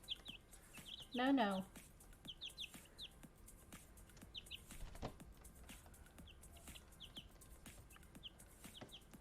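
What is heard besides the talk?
chickens clucking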